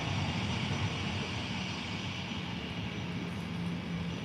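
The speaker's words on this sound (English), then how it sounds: "Ryanair is already taxiing to the runway" Steady, distant jet engine rumble at Faro airport as airliners push back and taxi toward the runway, a continuous low roar without speech.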